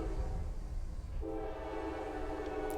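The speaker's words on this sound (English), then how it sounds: "Man, this train keeps going by." A train passes continuously nearby with a steady rumble and a sustained horn tone that enters partway through, heard alone without talk.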